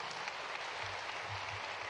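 Steady clapping from an audience at an outdoor rural tourism event on a rainy day, a dense continuous patter of hands at moderate loudness with no speech.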